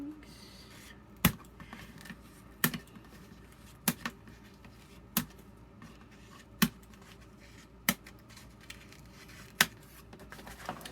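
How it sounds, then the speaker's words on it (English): Scissors cut out strings for a junk journal, giving about eight sharp, distinct snips at roughly even intervals over a quiet background, near and fairly soft. "But first let me cut out these strings."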